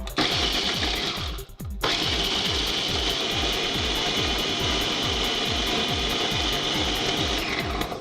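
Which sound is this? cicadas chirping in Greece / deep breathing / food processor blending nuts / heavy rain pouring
food processor blending nuts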